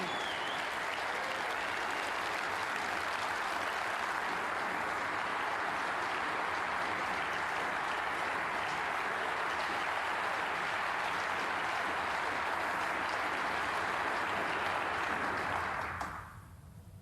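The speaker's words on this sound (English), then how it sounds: "Prolonged applause, always an indicator that a match has come to its conclusion" Prolonged applause from a snooker crowd at a German Masters match ending, sustained and even clapping heard from a distance that carries on for about sixteen seconds before cutting away.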